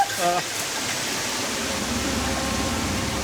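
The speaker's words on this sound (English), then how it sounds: "We're just in a flush cycle now." Many toilets flush together in a cycle inside a large washroom, a dense rushing-water roar that stays steady, with a brief voice at the very start.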